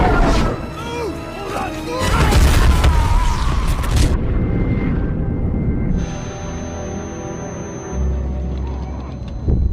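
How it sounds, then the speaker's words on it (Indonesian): A movie missile fired from a helicopter explodes with heavy booming crashes that rumble and rip loud across the first few seconds, followed by lingering debris noise and another low thump near the end, mixed with music and no clear talk. "dia bahkan menembakkan rudal yang langsung meledakkan area sekitar mereka"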